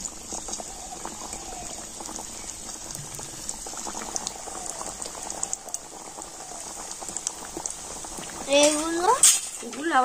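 Potato-and-cheese-stuffed kachoris fry in hot oil with a steady close bubbling and crackling sizzle, and a person talks briefly over it near the end.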